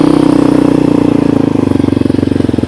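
A motorcycle engine running loud and close, its pulsing, rapid beat holding steady and slowly climbing in pitch toward the rev limit.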